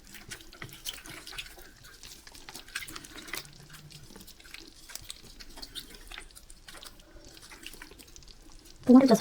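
Water trickles and splashes faintly in a small dish while squishy cherry shapes are eased out of their mold, with soft talk nearby and a louder splash burst at the very end.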